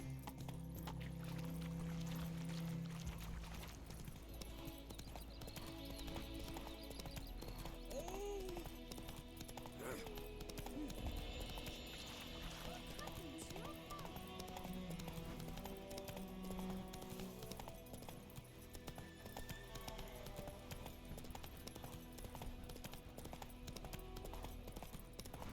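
Hooves of the horse Roach galloping in The Witcher 3: Wild Hunt, a steady rapid clip-clop under game ambience and a low hum, with a short snort or whinny early on.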